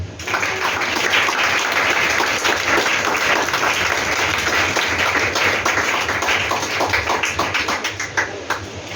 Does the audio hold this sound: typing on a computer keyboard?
no